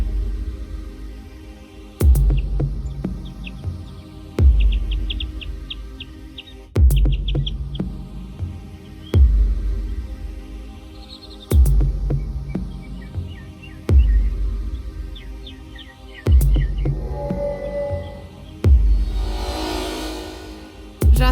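Baya weaver birds building a nest give quick, high trilling chirps in short runs, set against loud, regular, pulsing background music.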